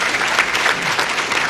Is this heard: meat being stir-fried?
no